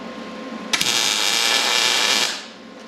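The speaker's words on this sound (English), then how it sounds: "I hear it sizzling" Rubber bushing on a street stock race car's rear control arm sizzles as welding heat soaks in, a close, loud hiss starting abruptly after a sharp click and fading after about two seconds.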